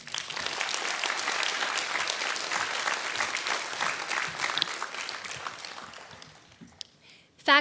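An audience at a university commencement ceremony applauds to welcome the student speaker to the podium, with loud, steady clapping that fades out before a voice begins.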